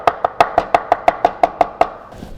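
A knife chopping smoked beef brisket on a board, about ten rapid, evenly spaced thuds with a bright ringing edge, loud and close with no talking.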